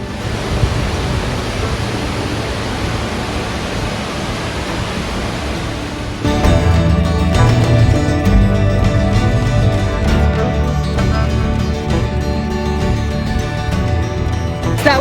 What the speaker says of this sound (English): You can hear the waterfall behind me.